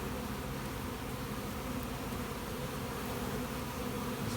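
Honey bees from overwintered nucs being installed into a hive, a soft, continuous, even buzzing hum with no voices.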